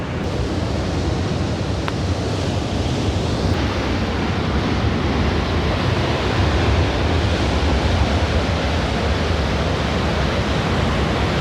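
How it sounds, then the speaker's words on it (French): Huge Atlantic waves crash against rocks on the Iberian coast, a loud continuous roar of surf and spray with wind buffeting the microphone throughout, steady and powerful with no voices. "Il y a des fois des vagues énormes."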